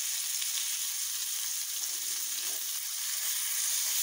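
Fish frying in a pan over a low flame, giving a steady, bright hiss of sizzling oil that holds evenly throughout with no talking over it.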